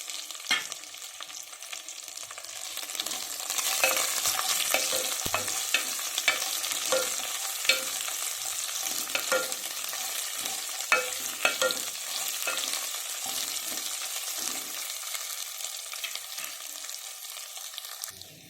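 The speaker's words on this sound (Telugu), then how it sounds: "ఇప్పుడు ఫ్రై అవుతున్నాయి కదా," Onions sizzle and fry steadily in a pan for Telugu-style palak kichidi, a continuous mid-loud crackle with frequent sharp scrapes and stirring clicks of a spoon throughout, no talk.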